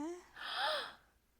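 A woman gives a sharp, breathy gasp that swells and fades within about a second, mixed with a brief vocal exclamation, fairly quiet and close.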